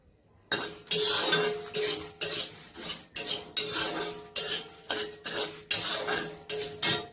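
Dry-roasting fenugreek, coriander, radhuni, nigella and mustard seeds in a pan for chaat masala: repeated scraping and rasping strokes of a spatula against the pan in a steady rhythm, close and fairly loud, with no talking.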